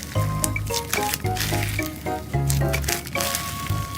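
Slime being squished and pressed during a polymer clay miniature house craft, a close, wet series of squelches and sticky crackles in uneven bursts, with no talking.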